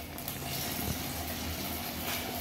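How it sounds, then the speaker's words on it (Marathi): Sabudana vadas deep-fry in hot ghee in a kadhai, a dense, continuous bubbling sizzle heard close up at moderate volume with no talk. "तर कढईत आपण तळून घेतोय तुपात वडे."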